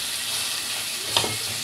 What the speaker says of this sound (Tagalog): sabisahin lang natin hanggang lumabas yung mantika ng manok.